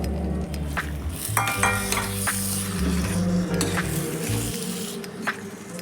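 Pigeon peas tipped into a pan of sizzling onion, ginger and chilli masala for Mehsana-style tuver totha, bringing a loud steady sizzle with stirring scrapes and clinks of a spoon against the pan.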